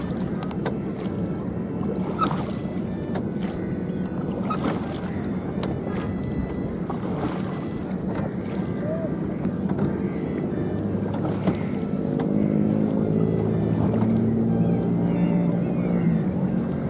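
Small boat moving on the polluted Ravi River, with steady water wash, wind buffeting and faint motor hum across the whole stretch, a faint voice now and then in the background.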